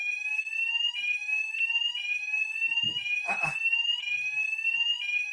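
An electronic fire alarm beeps on and off in a steady repeating pattern during a live Nigerian morning TV broadcast, loud and continuous, with brief background noises.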